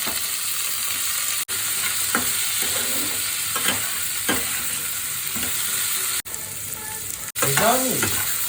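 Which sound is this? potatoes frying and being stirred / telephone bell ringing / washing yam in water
potatoes frying and being stirred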